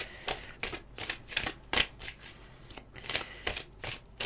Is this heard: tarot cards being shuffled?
yes